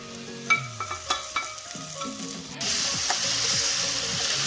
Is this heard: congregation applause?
no